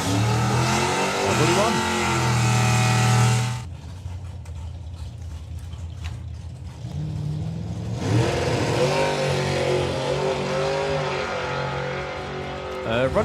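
A drag racing car makes a run without wheelie bars at an FIA/FIM drag racing event, its loud engine roaring at the start and again after a quieter gap, while a commentator talks over it.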